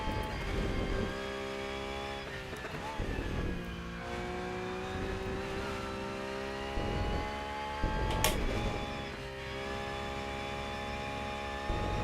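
Porsche race car engine in the Rennsport racing game, a steady loud harmonic drone with rising and falling revs and gear shifts, continuous throughout with no talk.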